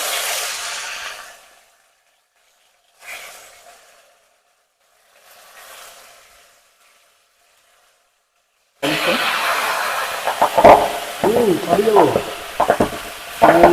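Boroali fish frying in a pan gives loud, continuous sizzling and crackling oil with stirring, starting abruptly after a few short faint hisses and separated by quiet gaps, with a close voice briefly heard over the frying.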